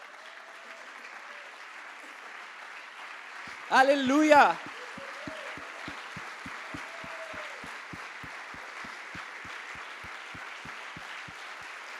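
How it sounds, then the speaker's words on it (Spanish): A church congregation claps together in a steady, even rhythm, each beat sharp and distinct, after a loud burst of shouted praise from a voice; the clapping carries on at a constant pace to the end. "denle el mejor de los aplausos al Rey de Reyes."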